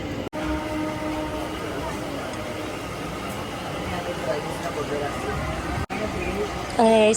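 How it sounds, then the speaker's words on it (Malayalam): Continuous low rumble and rattle of a train starting to move out of Punalur toward Kollam, steady and close, with a brief high squeal near the end. "ട്രെയിൻ മൂവായി തുടങ്ങി"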